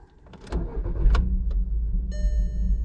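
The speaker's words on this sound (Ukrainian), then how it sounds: "зараз перевіряємо ще запуск" A VW Golf V engine cranks with a few quick clicks and whirs, catches, and settles into a steady low idle, with a brief electronic chime near the end.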